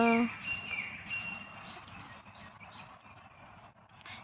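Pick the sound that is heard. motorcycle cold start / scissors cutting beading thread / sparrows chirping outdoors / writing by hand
sparrows chirping outdoors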